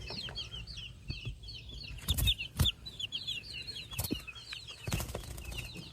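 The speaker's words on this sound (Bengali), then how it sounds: "আর ওই পাশে হইলে দেশি মুরগি" Native desi chickens on a small poultry farm, clucking in quick repeated calls close by, with a few louder bursts of wing flapping and scuffling among the birds.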